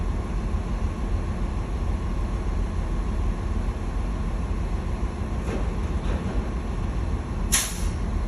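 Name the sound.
hissing of truck air tanks being drained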